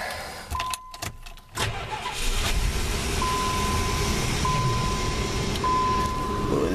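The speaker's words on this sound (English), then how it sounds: "So we'll go in here and restart the engine" A 1987 Plymouth Gran Fury with a fuel system problem is restarted: a brief crank, then the engine catches and settles into a steady, loud idle running close by.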